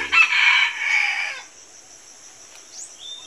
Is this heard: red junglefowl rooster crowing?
yes